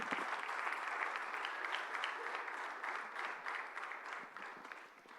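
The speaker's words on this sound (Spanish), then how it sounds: "Dale un aplauso al Señor en esta mañana" A church congregation claims in unison for a Christmas-themed service, a dense, steady wash of hand-claps heard from within the room that eases slightly at the end.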